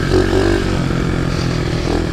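A pit bike motorcycle engine runs loud and close while being ridden, a steady throaty drone with a slight rise in revs near the start and no talk.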